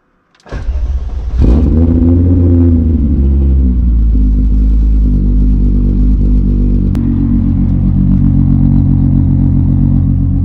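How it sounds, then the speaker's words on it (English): An MK3 Volkswagen Jetta engine without a turbo cold starts, cranking briefly, catching and settling into a loud, steady idle with a rough, slightly lumpy rumble, close by with no talking. "she's got a pretty solid cold start going on"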